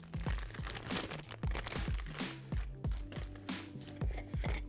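A plastic bag crinkles and crackles in quick, irregular bursts while an exhaust fan kit is unpacked, close up and without talk.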